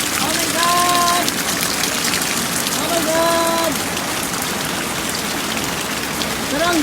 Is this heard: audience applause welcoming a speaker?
no